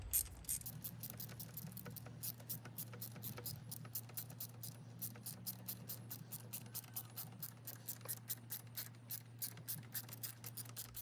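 Ratchet with a 10 mm socket clicks in a steady, rapid rhythm while loosening a bolt on a BMW E39 during water pump work, close and continuous over a low mechanical hum.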